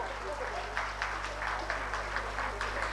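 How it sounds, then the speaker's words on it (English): Parents in an audience keep applauding at a school annual function. Continuous, moderately loud clapping fills the hall with a steady room hum underneath, and a voice may be heard faintly under it. "Parents, please keep on applauding."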